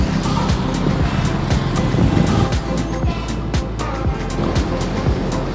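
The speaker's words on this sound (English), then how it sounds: "we've got traffic coming from a couple different directions" Road traffic passes on a street while someone crosses on foot, with a continuous rumble of engines and tyres from several directions and a few vehicles sweeping by close.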